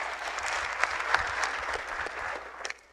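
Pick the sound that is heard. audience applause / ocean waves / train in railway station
audience applause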